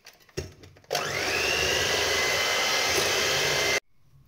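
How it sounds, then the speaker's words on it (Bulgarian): An electric mixer beating eggs with erythritol for a healthy apple cake: a few clicks and knocks, then a loud steady whirring drone for about three seconds that stops abruptly. "Слагам и еритритола и сега ще"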